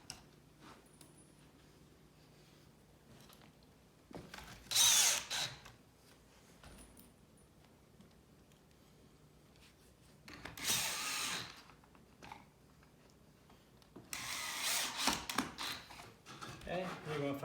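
Power drill driving screws into the wooden parts of a farmhouse shoe bench, three separate bursts of whirring spaced several seconds apart, close and loud against a quiet room.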